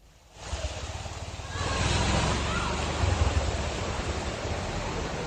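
Heavy monsoon rain pours down in Deesa as a dense, continuous roar of broadband noise that swells louder after a quiet start and holds steady, with no talk over it.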